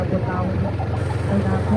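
A walk-behind tractor engine idles and chugs with a steady low throb at a tractor race on a rice field, heard close and continuous.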